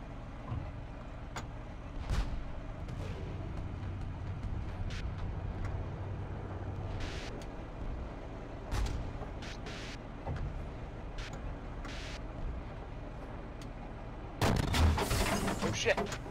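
Tank cannon blasts in a World War II tank video game, several booming shots spaced out over a low engine rumble, with a heavier burst near the end while players talk.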